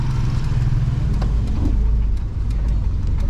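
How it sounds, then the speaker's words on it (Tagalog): Vehicle engine with a knocking fault, owned by overseas Filipino workers, runs steadily up close with a low rumbling drone and faint repeated taps throughout, no talk over it. "Pakinggan mo makina. Katok."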